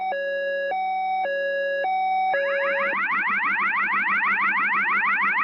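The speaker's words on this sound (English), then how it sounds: "The weather emergency alarm sounds like this." A weather emergency alarm plays loud and alone, first a steady stepped electronic two-tone pattern, then a fast repeating rising whoop that carries on to the end.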